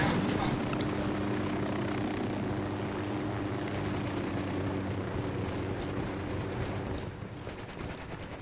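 A helicopter flies in the Ghost Recon Wildlands video game, its steady loud rotor thump and engine drone filling the whole stretch and easing slightly toward the end, with voices talking over it.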